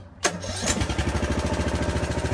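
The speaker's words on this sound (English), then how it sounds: "Now what we're going to do is crank our machine and see if we can jack this wall up." A foundation jacking machine's engine starts for lifting a bowed, settling brick foundation wall: a sharp cranking burst, then it catches into a steady, loud, rapid putter that runs on unbroken with no talk.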